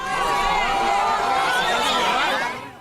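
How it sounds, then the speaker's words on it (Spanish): Crowd of supporters at Maiquetía International Airport raising a continuous roar of cheering and chatter, loud and close, with voices and laughter blending throughout. "La ovación de sus partidarios comenzó apenas cruzó el control migratorio"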